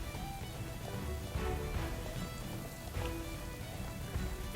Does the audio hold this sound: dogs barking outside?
no